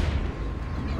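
A grenade goes off in the video game Batman: Arkham City as a loud, dense, rumbling blast that fills the whole second without a break.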